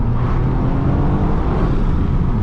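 A car with a 1.6 litre three-cylinder engine accelerates hard, a loud continuous engine roar with road rumble heard from inside, no talk.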